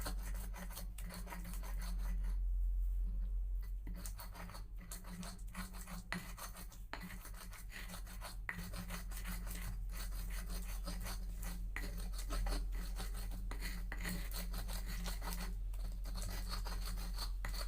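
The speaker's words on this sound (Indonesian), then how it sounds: "bumbu ininya diulek sampai halus" Stone mortar and pestle grinding a spice paste for marinating chicken, a steady rasping, scraping rub repeated continuously at close range without talk.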